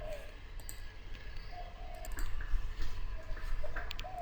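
Faint computer mouse clicks, a few brief light ticks scattered over a low background hum, with no one speaking.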